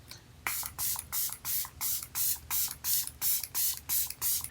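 A makeup setting spray mists in about a dozen quick, evenly spaced bursts, close and crisp, with nothing else in between.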